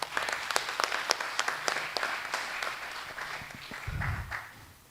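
An audience claps at a Mount Vernon Board of Education meeting, a steady patter of many hands at moderate distance that thins out and fades over several seconds, with a low murmur beneath.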